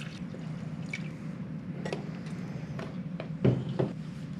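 Water pours slowly into an Avalon bottom-loading water cooler during rinsing, a soft continuous trickle with low gurgling and a couple of brief louder splashes near the end, close by with no talking.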